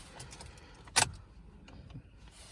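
A bunch of car keys jangles briefly as the ignition of a 2017 Toyota Aygo is turned, a single bright metallic rattle close up in a quiet cabin.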